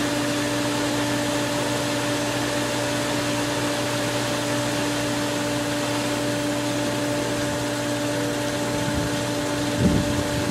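A pool sand filter pump runs on the rinse setting, giving a loud, steady motor hum with a strong tonal drone and rushing water noise, constant throughout with a small bump near the end.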